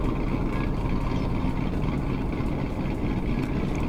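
A loud, aggressive car engine idling in the Roblox game Greenville, a steady, dense rumble holding without a break from start to finish.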